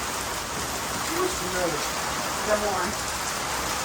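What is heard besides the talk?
rain falling outside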